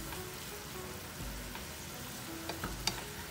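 Mushrooms sizzle steadily in a pan for burgers, a close, even crackle of frying with a few louder pops and stirring scrapes, no voice over it.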